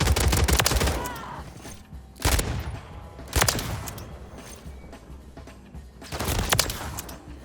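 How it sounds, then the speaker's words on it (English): A double-barrel gun fired in a video game: four sharp, loud blasts spaced a second or more apart, each with a short booming tail and no talk. "let's try out this double barrel right here"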